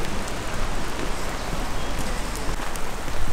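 Steady rain falling outdoors near Wanaka, a dense continuous hiss of drops on surfaces, close and fairly loud throughout with no other sounds.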